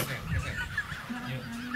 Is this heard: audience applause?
no